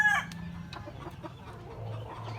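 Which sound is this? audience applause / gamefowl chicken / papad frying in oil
gamefowl chicken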